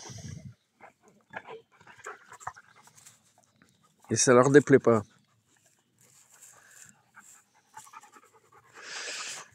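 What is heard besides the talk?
dogs panting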